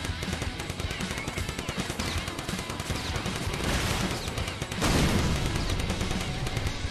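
Dense, continuous gunfire and explosions from the video game Cannon Fodder 3 roar without a break, with rapid shots layered over booming blasts.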